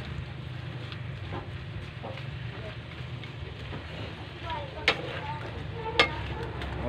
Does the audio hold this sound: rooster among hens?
no